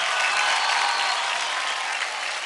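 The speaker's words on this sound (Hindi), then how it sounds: "ज्यादा तालियां हो जाए प्रिंस और क्रॉक रॉस के लिए।" Studio audience on the dance show Dance India Dance Season 3 applauds the dancers, a dense, even burst of clapping heard alone for a couple of seconds.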